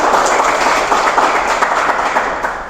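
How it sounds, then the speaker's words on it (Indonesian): Applause from a small group at a military court office gathering in Bandung, a dense steady patter of clapping held at an even level throughout, fading slightly at the end. "Tepuk tangannya dong."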